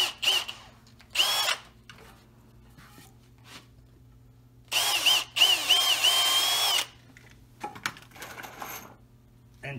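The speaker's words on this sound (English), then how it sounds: "pre-drill it." A power drill pre-drills a hole in wood while an HVAC waveguide is being installed, making several bursts of high whining spin. The longest run lasts about two seconds, and knocks and handling noises fall between the bursts.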